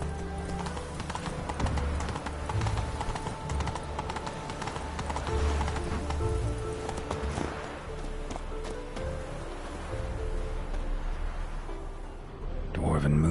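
Horse hooves clip-clopping at a steady gallop in The Witcher 3, a continuous rhythmic drumming of hoofbeats with game ambience, a brief whinny possible, running throughout at fairly close range.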